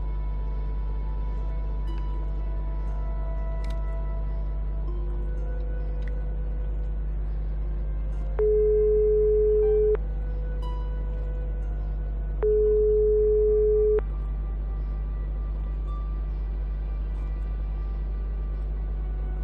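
Phone ringing unanswered in Broken Sword 5 The Serpent's Curse, two long electronic rings spaced apart over a steady low hum and soft game background music, no voices.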